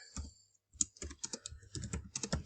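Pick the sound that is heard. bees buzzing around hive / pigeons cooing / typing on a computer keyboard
typing on a computer keyboard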